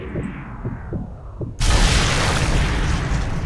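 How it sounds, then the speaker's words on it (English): A Sniper Elite III grenade explosion erupts suddenly after a stretch of low thumping, a loud broadband boom that holds as a dense roaring rumble to the end. "these guys are trying to throw grenades at us"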